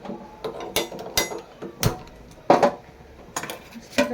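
A gas stove is lit in a home kitchen while cooking chicken, a series of sharp, close clicks and knocks at uneven intervals, fairly quiet, with no talking.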